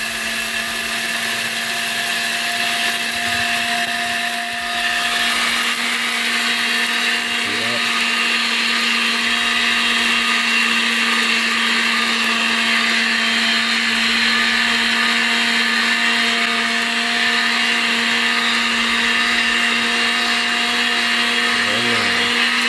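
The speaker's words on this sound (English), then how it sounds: "get yourself a nice blender that you can go ahead and blend up the Spelt, and you give it a couple pulses" A blender grinds spelt grain into flour, a loud continuous whirring drone that holds steady throughout with a faint low rattle of grain, running alone without pauses.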